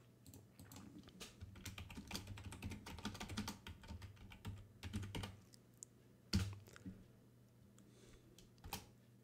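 Computer keyboard typing during an English word-scramble lesson, with quick irregular clusters of key clicks and a few sharper taps, fairly close and steady over a faint low hum.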